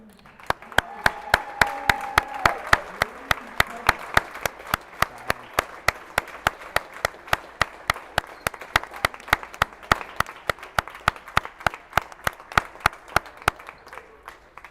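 Crowd at a District 9 Class AAAA basketball championship final, SMA vs Clearfield, applauds while one very loud, close clapper keeps a steady, evenly spaced beat throughout, with brief voices early on.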